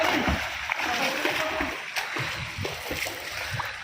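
Swimmers splash in the water of a condominium swimming pool, with irregular nearby sloshes and slaps continuing over a few seconds while people talk.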